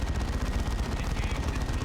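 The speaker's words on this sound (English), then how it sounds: "he's doing 110 damage per shot with this melter gun now" A melter gun fires in Dawn of War 2: Retribution, rapid repeated bursts forming a dense, rhythmic rattle amid general battle noise, fairly quiet in the mix.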